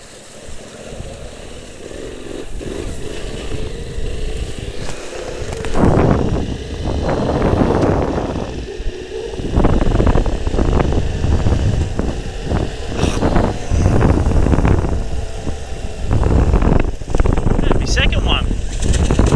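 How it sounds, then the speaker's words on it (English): A Yamaha Tenere 700 motorcycle crosses water on a loop ride near Stanthorpe, the engine droning under heavy wind buffeting with bursts of splashing surging loudly from about six seconds on. "My first water crossing."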